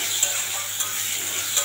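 Chopped tomato and onion frying with whole cumin seeds in oil left over from frying fish, giving a steady close sizzle with a few faint stirring clicks.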